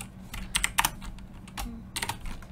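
Close typing on a computer keyboard while writing Unity code, a quick uneven burst of key clicks in two clusters with a short pause between, moderately quiet.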